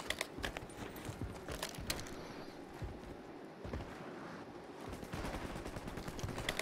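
Gunshots in a multiplayer shooter video game: fairly faint, scattered sharp shots and short rapid bursts, with quieter pauses between them and light clattering steps underneath.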